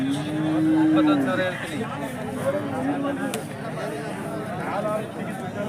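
A young bull calf at a cattle market lets out a drawn-out low moo, then shorter calls, with people chatting and background murmur throughout.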